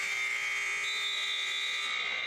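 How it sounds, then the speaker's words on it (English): A basketball buzzer ends the third quarter of a girls' high school game. It is a loud, sustained electronic tone that fills the whole stretch without a break. "And there's the buzzer that's going to end that third quarter."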